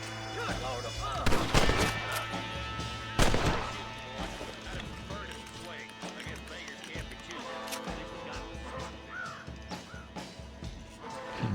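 Gunfire in the Red Dead Redemption video game on Nintendo Switch, sharp loud shots around the first few seconds followed by game ambience, crow-like caws and scattered effects, with a player's voice and game dialogue over it.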